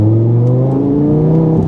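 An Audi R8 in manual mode pulls hard with a close, loud engine note that climbs steadily, then dips briefly at a gear change before rising again.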